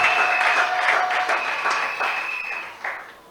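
Church congregation applauding and praising the Lord, a steady wash of clapping with a sustained tonal ring running through it, easing slightly toward the end.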